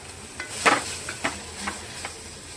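A spoon stirs tomato cauliflower curry in a pan, giving a few soft scraping strokes spaced about half a second apart over a low simmering sizzle.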